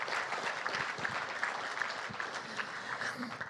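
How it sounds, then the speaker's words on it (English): An audience at an awards gala applauds steadily throughout, a dense, continuous wash of clapping that stays even in loudness with no pauses, filling a large room. "Again, round of applause for them"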